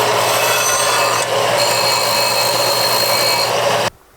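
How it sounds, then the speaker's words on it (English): A sanding wheel grinds a burr off metal threads under a school bus during a gray water tank install: a loud, steady abrasive whine that cuts off abruptly near the end. "we're gonna clean the burr with the sanding wheel first"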